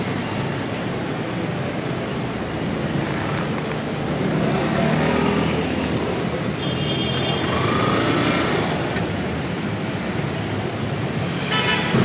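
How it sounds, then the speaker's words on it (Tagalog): Steady road traffic on San Miguel Avenue at rush hour, a continuous broadband roar of idling and creeping vehicles with a couple of brief horn toots and passing engines rising and falling around the middle. "Traffic sa San Miguel Avenue mga kabari. Traffic, matraffic."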